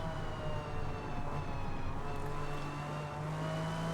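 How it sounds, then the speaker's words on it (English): A 1997 McLaren race car engine in Forza Motorsport hums at a steady, fairly quiet pitch, a sustained tonal drone with only slight shifts and no sharp revving. "This engine is quiet, so its power is deceiving."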